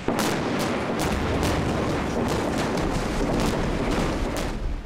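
Demolition blast at Condit Dam, a loud sustained roar of rumbling detonation and rushing debris heard from a distance, with repeated sharp cracks spread through the noise.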